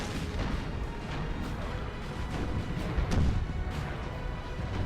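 Several cannons fire in a Napoleon Total War battle. Dull booms come at an irregular rhythm over a dense, rumbling battlefield din, loudest near the end.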